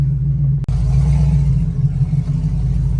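Pontiac G8 GT with no power steering driven slowly up a street, its V8 giving a loud, deep, steady rumble heard from inside, with one sharp click near the start.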